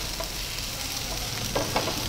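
Chopped tomato sautéed and stirred in a pan for chicken or mutton keema samosa filling, a steady soft sizzle with a couple of brief scraping stirs near the end.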